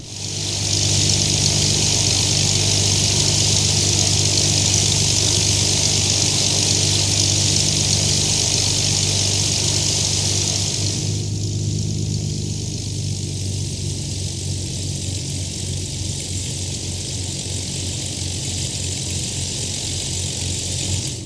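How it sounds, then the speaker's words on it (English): Simulated Piper PA-28-181 Archer piston engine taxiing in X-Plane 11, a loud steady drone with constant propeller hum that shifts to a slightly lower, duller tone about halfway through, no speech. "give a little bit of throttle, and we're gonna start rolling forward"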